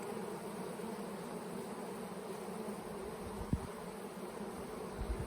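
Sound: honeybees buzzing around the hive

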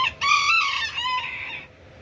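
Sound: Buff Orpington chicken crowing and clucking

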